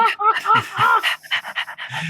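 A small Boston Terrier from the video game Dream Daddy pants close by, with quick breathy huffs in a fast uneven rhythm and a few voiced squeaks running through the short burst.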